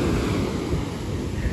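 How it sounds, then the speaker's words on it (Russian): Stormy surf washes up a beach on Koh Samui, a loud continuous roar of crashing waves mixed with wind buffeting the microphone, no speech. "Просто пляж весь смыло, волны доходят аж вот сюда вот."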